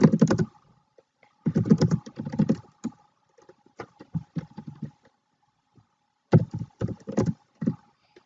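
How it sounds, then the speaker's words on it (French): Close-up clatter of typing on a computer keyboard, with short bursts of rapid keystrokes separated by pauses and a few isolated taps, all alone without talk. "je tape map télécharger"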